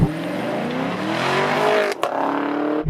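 A 2019 Camaro 2SS V8 revs hard and climbs, then a brief dip and a sharp rasp mark the gear change before the engine pulls on, loud and close with no talking.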